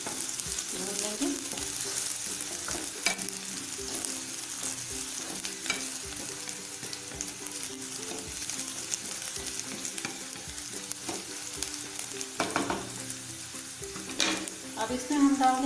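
Garlic and onions fry in hot oil for a mushroom pancake, a continuous close sizzle with crackles and stirring clinks and scrapes throughout, briefly louder at the end.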